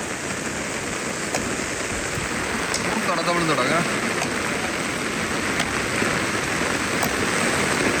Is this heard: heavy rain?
yes